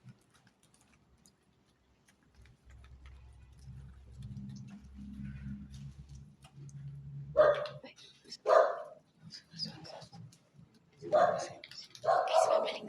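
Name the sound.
dog barking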